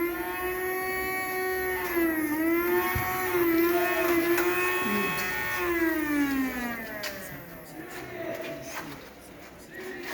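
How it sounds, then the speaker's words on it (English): Engine noise from a children's homemade toy vehicle: a steady, buzzing motor hum whose pitch dips and rises as it runs, fairly faint against background noise, with voices nearby. "It's making noise. Yes. What kind of noise is that one? Engine."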